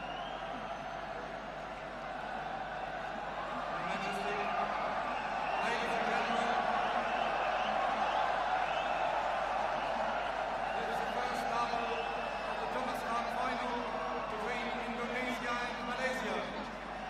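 Indoor arena crowd at the 1992 Thomas Cup badminton final between Indonesia and Malaysia, a steady murmur that swells slightly with scattered shouts and then eases, heard beneath continuous commentary.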